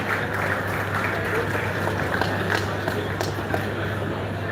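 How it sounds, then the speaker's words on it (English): Conference audience clapping in a hall in Lagos, a continuous dense patter of many hands at a steady level throughout, with a low hum underneath and voices faintly mixed in. "Please keep clapping"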